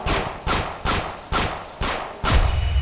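A run of loud, sharp gunshots in a Roblox game, fired in a steady rhythm, about six blasts with a ringing tail, with a rumbling boom after the last one.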